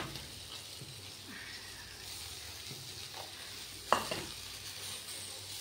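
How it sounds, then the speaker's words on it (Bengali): Okra, potato and onion fry in a pan with nigella seeds and green chilli, giving a soft, low sizzle with faint stirring scrapes and one sharper clink, fairly quiet and steady. "এখানে ভেন্ডি আর আলুটা ভেজেছি, কালো জিরে কাঁচা লঙ্কা ছিঁড়ে দিয়ে দিলাম এর মধ্যে। এবার দেবো হচ্ছে গিয়ে পেঁয়াজটা।"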